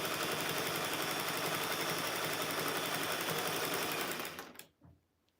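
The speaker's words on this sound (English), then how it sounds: "we are just going to sew." A sewing machine runs fast and steady, stitching a flannel rag quilt with batting, its rapid mechanical chatter continuing for several seconds before winding down and stopping near the end.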